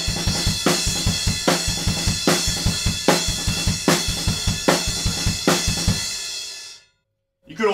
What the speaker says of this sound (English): but moving it up onto the crash cymbal